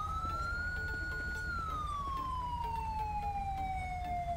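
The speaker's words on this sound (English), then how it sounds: "Or turn your sirens off." A police car siren wails steadily in GTA V with the LSPDFR mod, its tone sliding slowly downward, loud and continuous over faint engine hum.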